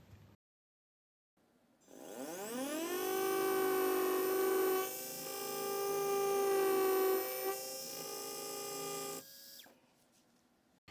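Surgical drill milling hard bone for a dental implant with a guided surgery kit, a high steady whine that spins up, runs for about seven seconds with slight pitch changes, then stops.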